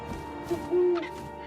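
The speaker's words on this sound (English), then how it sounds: "And suddenly, I was an owl." An owl hoots in the video game What Remains of Edith Finch: a single drawn-out hoot, preceded by a brief shorter call, sounding over a steady low ambient hum.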